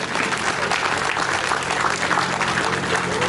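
An audience at a talk applauds, a dense, even wash of many hands clapping at once that holds steady and loud for the whole stretch.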